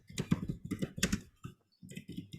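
Quick bursts of keys on a computer keyboard as a caption is typed, in short irregular clusters with a brief pause before the clicking resumes, close and fairly quiet.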